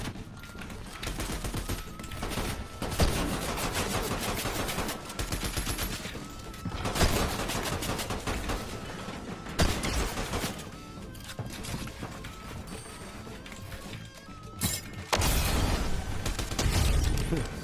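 Video game gunfire comes in repeated bursts and rapid volleys of shots, some closer and louder, others sparser, mixed with mechanical clicks and game effects across a long stretch without talk.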